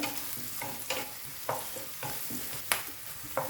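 Onions frying with chili powder in a pan, a soft continuous sizzle with rhythmic scrapes and taps of a stirring spoon every half second or so, close and moderately quiet.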